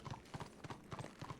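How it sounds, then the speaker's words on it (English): Horse hooves clip-clopping in the video game Warhammer Online, a steady series of paired footfalls repeating about every third of a second, fairly close and alone with no talk over them. "Horses. I don't think they actually back up very well."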